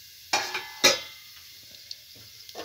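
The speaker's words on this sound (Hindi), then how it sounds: "फिर डालूंगी जीरा, और फिर डालूंगी थोड़ी सी सौंफ, और ये थोड़े से भुन जाएंगे" Cumin and fennel seeds drop into a hot pan and hit the oil with two sharp sizzling bursts, followed by a quiet, faint crackle and small stirring clicks.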